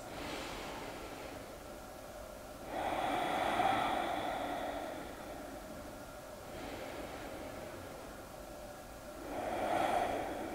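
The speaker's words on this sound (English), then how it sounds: "And just take a few breaths." A person takes slow, deep breaths during a stretching session, with two long audible exhales spaced several seconds apart and quieter inhales between them, close and unaccompanied by speech.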